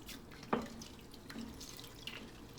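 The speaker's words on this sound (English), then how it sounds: "I'm going to keep on swishing it around, just making sure that all the salt and the dirt is off of it" Sea moss swished around in a bowl of water to rinse off salt and dirt, giving a faint watery slosh with one brief louder splash near the start and light drips afterward.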